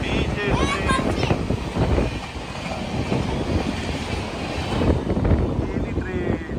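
A passenger train rolls past close by, a continuous heavy rumble with rhythmic clatter of wheels and wind buffeting the microphone, loud and steady throughout.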